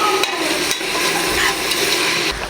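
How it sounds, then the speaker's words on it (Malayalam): Garlic and green chillies sauté in a pan for a pork curry, giving a loud, continuous sizzle close up, with a few knocks and scrapes of stirring. "ഇനി ഇതെല്ലാം കൂടി നന്നായിട്ടൊന്ന് വഴറ്റിയെടുക്കാം."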